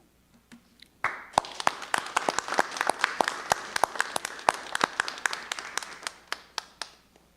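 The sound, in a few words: applause for the school board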